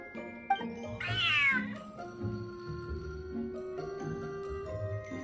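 A cat meows in Genshin Impact, one drawn-out rising and falling meow sitting over soft game music with chimes, loud and close, with no talking.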